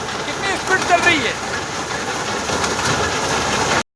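A tractor-driven reaper binder for cutting and bundling wheat and paddy runs with a loud, steady engine drone and mechanical rattle, cutting off abruptly at the end, with a person talking over it.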